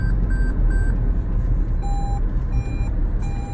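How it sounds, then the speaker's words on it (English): Warning chimes from a 2019 Toyota Prius AWD prompting the driver to put hands on the steering wheel: a quick run of three short electronic beeps, then lower, longer tones, all over a steady rumble of road and cabin noise. "That's it telling me I need to actually put my hands on the steering wheel because it's not autonomous."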